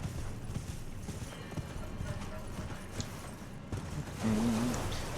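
Horse hooves clip-clop in a steady galloping rhythm in the Elden Ring video game, with a short whinny near the end, all under game ambience.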